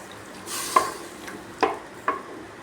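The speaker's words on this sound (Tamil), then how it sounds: "தண்ணி ஊற்றி நல்லா கலக்கி விட்டுக்குங்க" Potato masala being stirred in a pot after water is added, a soft wet scraping with three distinct spoon knocks against the pot rim, close and moderately quiet, with no talk.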